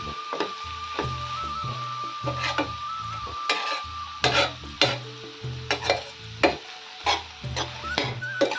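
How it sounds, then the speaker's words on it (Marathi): Aloo palak sabzi stirred in a pan, with rhythmic scraping and knocking strokes of a spoon against the pan over a low sizzle, close and fairly loud, in regular bursts about once a second. "मिक्स करून घ्यायची"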